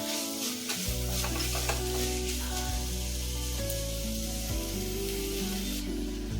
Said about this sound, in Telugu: ఇవన్నీ బాగా ఫ్రై అయ్యండి